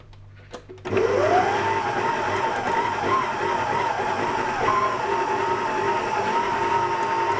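After a moment of quiet, a stand mixer's motor, mixing treacle pudding batter, kicks on loudly and grinds with a strained, uneven whine that continues without letup, failing to work properly.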